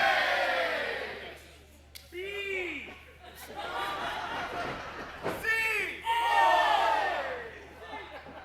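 Wrestling crowd at a Prestige Wrestling show, Team C4 vs The Strays, shouting and chanting in support of Team C4, rising and falling in waves with laughter and a commentator speaking over it.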